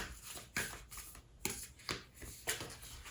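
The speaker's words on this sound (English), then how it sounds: "let's pick some oracle cards." Oracle cards being shuffled in short riffled bursts, about five quick papery flurries spread evenly over a few seconds, close and fairly quiet with no talking.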